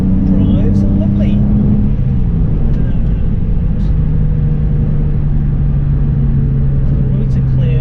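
Porsche 911 engine droning while driving on an open road, a continuous rumbling hum that eases in pitch as it pulls along, with road noise throughout.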